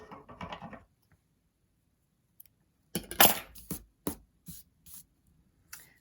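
Scissors trim the stitched stalk of a hand-sewn felt acorn decoration: a few sharp, close snips and clicks in quick succession after a brief rustle, in an otherwise quiet room.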